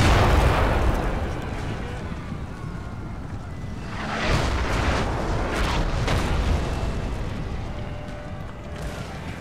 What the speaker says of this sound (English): And cannonballs rain down on their artillery.